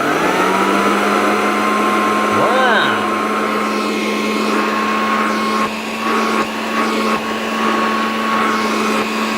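Hoover Dustette Model 2614B handheld vacuum cleaner switched on and running, a loud steady whine with a constant motor hum, the pitch briefly wavering as it settles, close and continuous.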